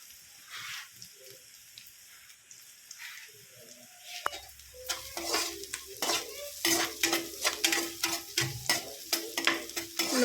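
Onion frying in a pan beside boiling cabbage at a Punjabi haara clay hearth, quiet at first, then rhythmic spoon stirring and scraping against the pan over a soft sizzle, no voices.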